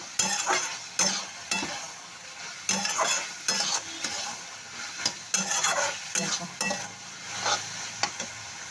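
Soybean chunks frying with ginger, onion, coriander and spices in a pan, stirred in a steady series of scraping strokes over a constant sizzle, close and clear with no voices.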